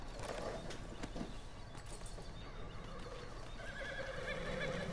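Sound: horse neighing in a video game

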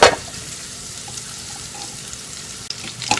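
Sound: sauteing onions in a pan

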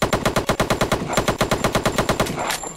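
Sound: gunfire from a video game gun, Apocalypse: The Game

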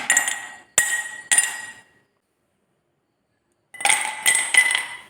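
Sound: ice cubes dropped into a glass

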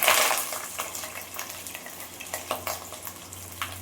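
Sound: onions frying in hot oil

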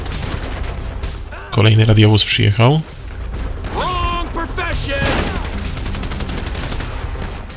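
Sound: gunfire in video game Grand Theft Auto V

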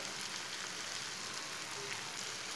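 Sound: spices frying in a pan for tinda sabzi

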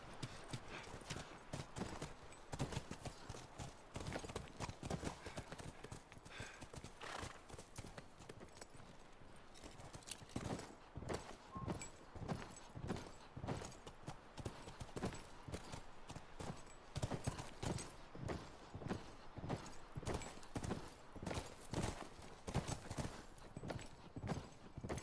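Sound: horse hooves clip-clopping, from a video game

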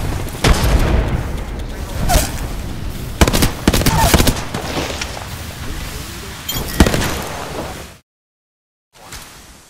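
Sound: frag grenade and thermite explosions in video game Apex Legends

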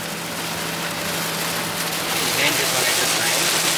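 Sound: rain on the road while driving

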